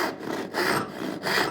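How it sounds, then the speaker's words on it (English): A short panel hand saw cuts through wood clamped in a vise, giving three rhythmic rasping strokes, close and fairly loud, with brief pauses between each push and pull and no talking. "So when you've got a hand saw like this one, this is a panel saw, it's a short hand saw"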